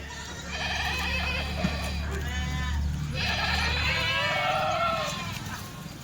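Kathiawari goats bleat loudly in two long, wavering calls, one after another, over a low steady background hum.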